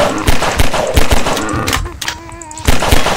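Gunfire in Half-Life 2: rapid bursts crack loudly in quick succession, pause briefly under a ringing tone, then resume with a few more sharp shots.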